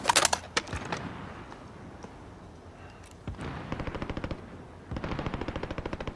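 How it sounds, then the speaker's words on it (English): Call of Duty Warzone gunfire near a stadium: a few sharp single shots, then fast automatic bursts of evenly spaced cracks, fairly close and loud, with quiet gaps between volleys. "They're shooting into the stadium at another guy."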